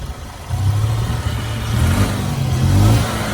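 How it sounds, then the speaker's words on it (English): A gas-powered golf cart engine revs freely in neutral, a steady mid-low drone rising and holding in pitch, close and fairly loud with no talking. "And see, we are free revving in neutral."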